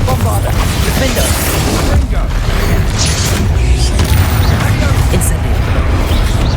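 Confringo and Bombarda spell explosions in Hogwarts Legacy, a dense wall of loud, continuous booming and crashing blasts with voices shouting over the din.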